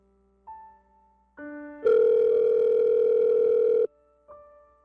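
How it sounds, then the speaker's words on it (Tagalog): A telephone call waits for an answer: electronic ringback tones in short steady bursts, one long loud tone in the middle, close and clear, with no talking. "sagutin mo na yung tawag ko."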